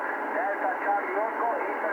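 Receiver noise with BHI noise reduction switched off: a steady, loud wash of hiss and static carries a faint warbling voice-like signal throughout, with no pauses.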